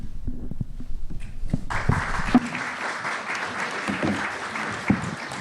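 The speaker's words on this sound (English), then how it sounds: "this actually might go faster if we held our applause until the end" An audience at a candidates forum bursts into applause after a candidate's remarks: a brief stretch of scattered sounds gives way to sustained, fairly distant clapping from a full room.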